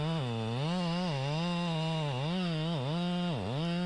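A chainsaw runs close by, its motor buzzing loudly and revving up and down in repeated wavering swells with a brief dip near the end.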